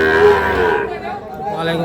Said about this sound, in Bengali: শাহিওয়াল জাতের বাছুর গরুগুলো।